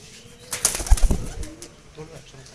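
Restless Madras pigeons flutter close by, a short burst of flapping wings and scuffling that peaks and fades within about a second, with a faint coo.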